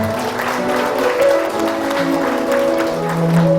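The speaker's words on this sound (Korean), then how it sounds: "자, 여러분 따뜻한 박수를 보내주시기 바랍니다" Warm applause fills a wedding hall at The Convention as the bride and groom bow to the bride's parents, a steady, dense clapping from the guests sustained over background music throughout.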